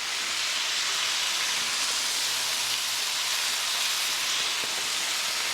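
Thick-cut bacon sizzles on a Blackstone 17-inch indoor electric griddle, a steady, loud, dense hiss with faint crackles and pops running unbroken throughout.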